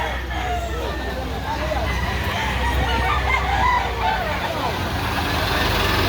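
Chickens at a roadside fowl market in Lipa City, Batangas, with crowing and clucking mixed into a busy outdoor din of passing cars and trucks and nearby voices.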